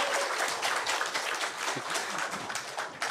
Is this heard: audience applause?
yes